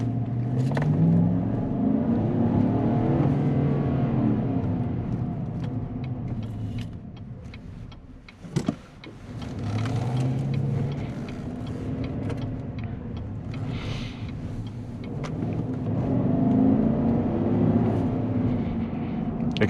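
A 2021 GMC Sierra Elevation pickup in sport mode gives a steady, moderately loud engine drone and road rumble from inside the cab, easing briefly midway and swelling again, with no talk over it.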